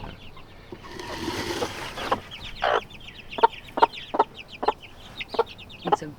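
Broody hen clucking to her three-week-old chicks on a farm, a series of short, evenly spaced clucks growing steadier toward the end, preceded by a brief rustling burst, close and moderately loud with no talking.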